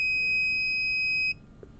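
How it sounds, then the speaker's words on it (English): A single sustained electronic beep from a STEM project buzzer, a pure high-pitched tone holding steady for over a second before cutting off, with faint background noise after. "notice this time we got one beep"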